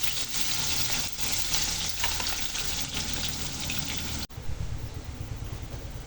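Garlic and onion sautéing together in a hot pan for a ginisang monggo dish, with a loud, steady sizzle and frying hiss that drops abruptly near the end, then continues as a lower, bubbling crackle.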